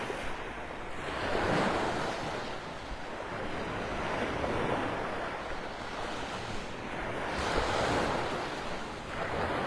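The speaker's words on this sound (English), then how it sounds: "the waves are starting to pick up a little bit here." Ocean waves break on a foggy beach at Clam Pass Park near high tide, a continuous roar of surf swelling and easing in slow surges, with steady wind noise buffeting the microphone and no talking.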